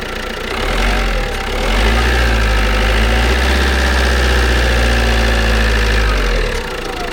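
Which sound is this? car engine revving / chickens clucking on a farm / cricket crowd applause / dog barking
car engine revving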